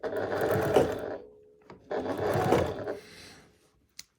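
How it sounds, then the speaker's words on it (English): A sewing machine stitches bias tape onto a square pot holder in two steady whirring bursts of about a second each, close and loud, separated by a short pause and followed by a faint click. "So I'm going to stitch all the way to about a 1/4 inch from the edge"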